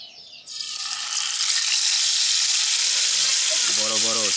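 Large belly pieces of chitol fish drop into hot oil in a rural village kitchen, frying before going into a curry. A loud steady sizzle bursts in and holds, and a voice speaks near the end.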